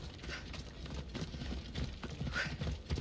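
Horse hooves clip-clop at a steady trotting rhythm in Assassin's Creed Odyssey, moderately close, with some rustling game ambience behind them.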